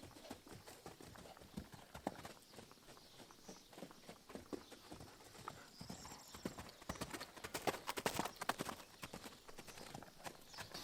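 Hooves of a young saddled horse beat a steady three-beat canter rhythm on the ground, close by and continuous throughout, with a few quick scuffs and no voices.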